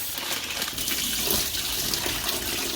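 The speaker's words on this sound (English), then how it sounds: "Remember to wash your lettuce." Tap water runs steadily into an oversized bowl as romaine lettuce leaves are washed, a continuous close splashing wash with no voices.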